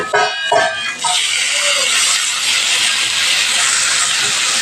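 Fried potatoes sizzling loudly in a pan as ginger, green chilli and cumin paste is added for a paneer-potato dish: a steady, broad, hissing sizzle, close and continuous after a few brief clatters at the start.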